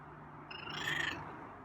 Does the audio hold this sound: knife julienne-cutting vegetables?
no